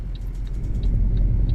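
Road traffic in Euro Truck Simulator 2 in France is a steady low engine rumble from a waiting truck, with faint, regular ticking from the indicator on top.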